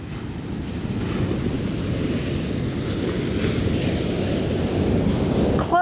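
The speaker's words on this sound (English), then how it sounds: "listening to the sound of the ocean" Ocean surf rolling onto a beach in Southern California, a continuous loud wash of waves with wind buffeting the microphone, no voices.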